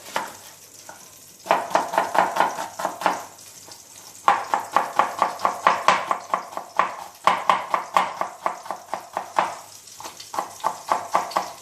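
Onion being sliced thinly with a knife on a cutting board, quick rhythmic bursts of close, crisp chops separated by short pauses, with no talk.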